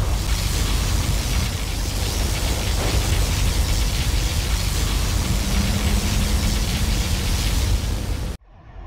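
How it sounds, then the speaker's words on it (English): Particle cannon firing in Command & Conquer Generals: a loud, sustained roaring blast of broadband noise with a low rumbling hum, holding steady for about eight seconds before cutting off abruptly. "Our particle cannon has been activated."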